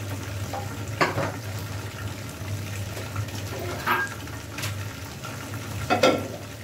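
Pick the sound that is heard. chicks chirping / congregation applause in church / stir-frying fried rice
stir-frying fried rice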